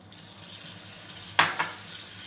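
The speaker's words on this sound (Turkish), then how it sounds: "Şimdi 2 yemek kaşığı kadar tereyağımızı ekliyoruz." Butter dropped into melted sugar for trileçe caramel, giving a sudden close sizzling burst with a second smaller spurt over a faint background hiss.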